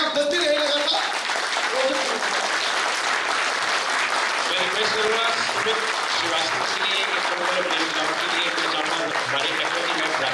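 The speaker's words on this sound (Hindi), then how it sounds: "और तालियां बजती रहे लगातार।" An audience at a seminar keeps up steady, continuous applause, a thick layer of many hands clapping while someone speaks through a microphone over the top.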